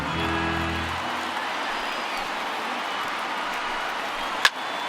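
A baseball stadium crowd rises and cheers late in an afternoon game, a broad sustained roar of voices filling the background, with a sharp crack near the end.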